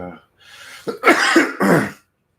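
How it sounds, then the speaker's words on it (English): A person coughs a few times in quick succession, loud and close, after a brief throat-clearing sound. "That cough got it out of there"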